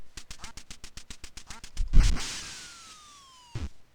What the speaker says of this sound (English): Oh no, it's Daffy Duck.